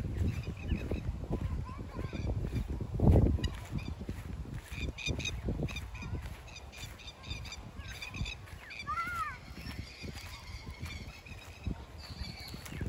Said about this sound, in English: She's chasing the ducks.